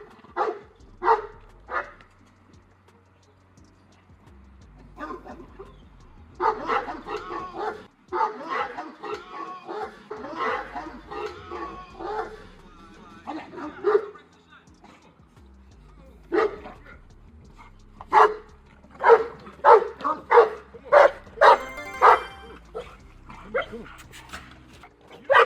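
Boerboel dog barking at home, a series of loud, close, deep barks in uneven bursts with short pauses between them, some quick yips mixed in, over quiet background.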